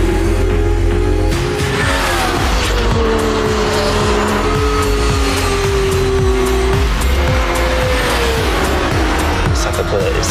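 A loud, fast hybrid hypercar engine, a 2021 Mercedes-AMG Project ONE of 1000 hp, roars and shifts pitch continuously, revving high with tire noise, sustained throughout at close range.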